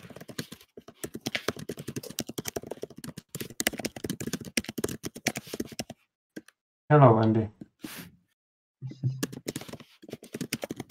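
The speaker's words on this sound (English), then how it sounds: "Oh, you're doing the typing." Keyboard typing during an online Tabletop Simulator playtest of the board game Stationfall: bursts of rapid, close key clicks mixed with voices on a call, and a short loud noise partway through.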